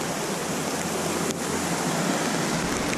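Steady broadband rush of a flowing river in the Great Smoky Mountains backcountry, near and continuous at even loudness for the whole stretch, with no voices.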